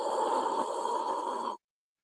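A voice imitates someone hitting a bong, a single long breathy, hissing inhale-like rush lasting about a second and a half, close and fairly quiet, then cutting off into silence.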